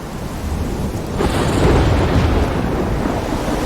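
Thunderstorm in the video game Life is Strange: a heavy rumble of thunder swells about a second in over a steady hiss of rain and wind, then slowly rolls away.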